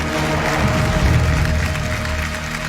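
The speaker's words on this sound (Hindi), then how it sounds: "एक बार जोरदार तालियां हो जाए पूरी टीम के लिए।" Sustained applause from an audience at an Independence Day event, honoring a rescue team, a dense continuous wash of clapping at steady loudness for a few seconds.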